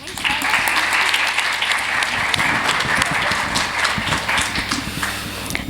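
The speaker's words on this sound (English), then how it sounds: "Another round of applause" A summit audience gives a loud, continuous round of applause for a community engaged research panel, the close, dense clapping holding steady from start to finish.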